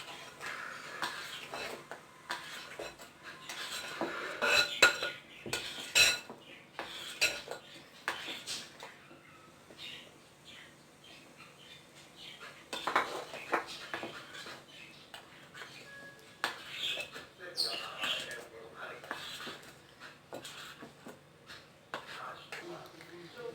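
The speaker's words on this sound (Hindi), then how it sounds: "अब मैं मैदा इसमें शामिल करती जाऊंगी और इसको फोल्ड करूंगी।" Spatula and bowl clatter as flour is folded round and round into marble cake batter, added in portions; soft scraping and intermittent clinks of utensils against the bowl, fairly close, with a voice talking at times.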